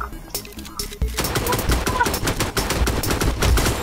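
Rapid bursts of automatic gunfire in the Vice Online RP game, loud and close, firing continuously in quick repeated shots after a brief quieter lead-in.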